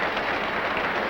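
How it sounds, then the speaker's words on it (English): Pittsburgh crowd at the 1960 World Series against the New York Yankees, cheering and clapping in a loud, dense roar that stays steady through the short stretch. "The Pittsburgh crowd going wild."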